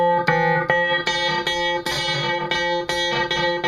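Roland SY99 synthesizer playing a bright, harmonically rich FM-style patch that imitates the sound of music heard over an FM radio, in a sequence of sharply attacked notes and chords, loud and close, with no talking.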